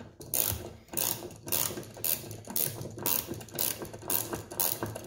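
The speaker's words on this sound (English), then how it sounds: "Then I'll use my ratcheting wrench." A ratcheting wrench tightening bolts on an auxiliary light bracket of a Raptor, clicking in close, rapid bursts separated by short pauses, with no talking.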